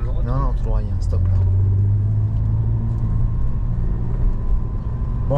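A Renault Avantime V6 engine drones low and steady while driving through a village, a continuous rumble that stays constant underneath people talking in the cabin.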